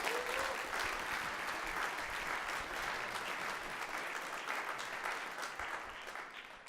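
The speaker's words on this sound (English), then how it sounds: "Please, a round of applause for the judges." An audience at a 2019 pitch competition claps for the judges, a dense, steady round of applause that holds strong throughout and begins to taper off at the end.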